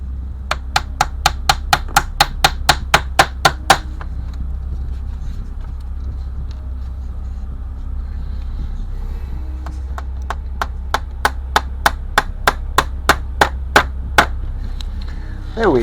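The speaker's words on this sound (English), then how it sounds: "we'll nail across all the way to the bow now" Light nailing taps on planks of an OCCRE Flying Dutchman 1:50 wooden model ship kit, set with needle-nose pliers: a quick regular run of about fifteen close, crisp taps, a pause, then a second steady burst over a low constant hum.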